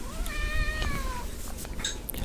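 A pet cat meows in a short series of rising, drawn-out calls, close and clear over a low background murmur, followed by a few quieter chirping sounds.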